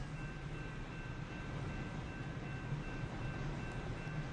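Train on rails heard faintly from the cab, a low steady rolling rumble with a thin constant tone above it and no voices.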